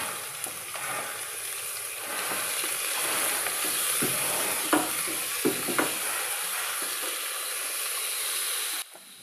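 Drumstick pieces and chopped raw mango sizzle in a pan, a steady hiss of frying with a few soft clicks of stirring, close and continuous.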